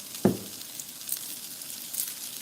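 Onion dropped into a hot pan in a home kitchen, starting with a short burst of crackle followed by a soft, steady sizzle that fades under faint background hiss.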